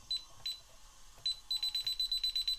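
A magnetic contact alarm sounds a few separate high beeps, then a quick run of about nine evenly spaced beeps, fairly faint in a quiet room.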